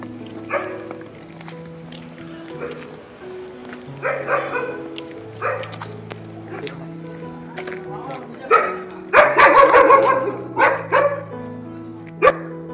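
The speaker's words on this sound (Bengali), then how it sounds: "কত ভৌ ভৌ, কত ভৌ ভৌ। ওই দেখো ওই ওপর থেকে ডাকছে।" A pack of dogs barks repeatedly from somewhere above, bursts building to a loud cluster of yaps near the end, while a child and an adult talk over the evening street noise.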